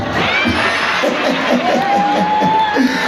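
A lively crowd at a stage show at the Wima Fest cheers and shouts together, children's voices prominent, sustained and loud for the whole stretch.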